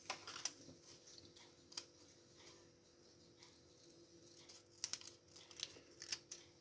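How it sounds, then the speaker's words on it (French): Small scissors snip through paper in a quiet craft setting while making a Halloween project-life layout, giving a few soft, scattered clicks and crisp snips with faint rustling between them. "il me faut mes petits ciseaux."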